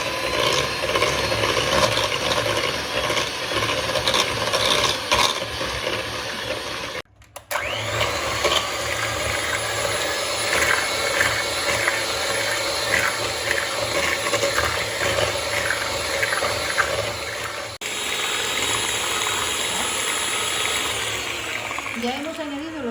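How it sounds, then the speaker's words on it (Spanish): An electric mixer beats eggs, added one at a time, into cheesecake batter for a Basque-style La Viña cheesecake, a steady whirring drone running nearly throughout with a brief cutout partway, under occasional talk. "Y según los vais incorporando, los vais batiendo para que lo vaya cogiendo bien el queso."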